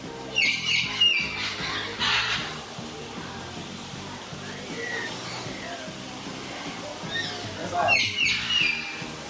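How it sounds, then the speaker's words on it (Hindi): Parrots squawking at a bird park in Kuala Lumpur, harsh repeated calls bursting out near the start and again near the end over a busy bed of background chatter and crowd noise, with people talking throughout. "So there are parrots."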